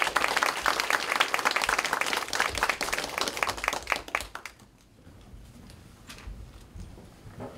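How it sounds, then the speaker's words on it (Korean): An audience at a political party workshop claps steadily in a dense burst of applause that thins out and fades into scattered claps and room noise. "큰 박수 부탁드립니다."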